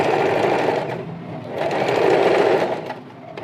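A sewing machine stitching a neck strip onto a baby top runs in a continuous close, loud mechanical whir, with slight changes in speed through the run and no talking.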